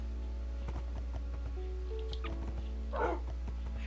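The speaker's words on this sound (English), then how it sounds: "I heard somebody yip." A dog yips in the Minecraft video game, one short high yelp standing out over steady game music and ambient tones.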